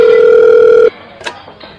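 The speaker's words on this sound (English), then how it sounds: "a telephone call." A telephone rings with a single loud, steady electronic tone lasting under a second, then cuts off, leaving a faint click and quiet room noise.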